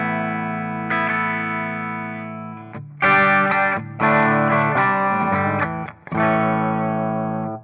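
A clean Les Paul electric guitar plays sustained chords and ringing notes, with brief pauses between phrases, steady and fairly loud with no voices.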